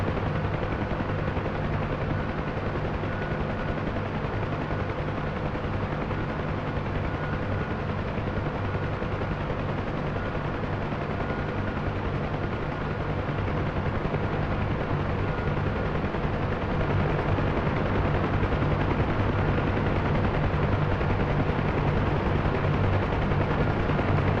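Helicopter in a Vietnam-era video game training session setting down on landing pads, a steady loud rotor and engine drone running throughout with constant low thumping, no talk over it.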